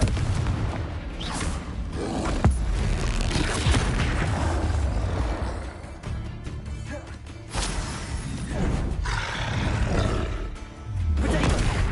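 Fiery Confringo spell blasts from the Hogwarts Legacy video game boom and roar in a dense, continuous barrage, with loud bursts and crashes swelling and dipping over about twelve seconds.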